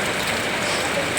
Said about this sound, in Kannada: ಇಲ್ಲಿ ಮಳೆ ನೋಡಿ ಹೊರಗಡೆ ಹೋಗೋಕ್ಕಾಗಲ್ಲ, ಆ ಥರದ ಮಳೆ ಹುಯ್ತಾ ಇದೆ.